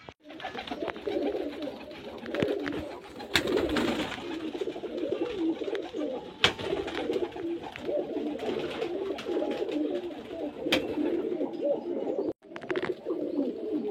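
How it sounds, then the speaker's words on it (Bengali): Pigeons at a pigeon sale coo in low, rolling, overlapping calls, several birds close by and continuous, with occasional faint chirps and clatter in the background. "আজকে কিন্তু খুব ভালো ভালো পায়রা আছে"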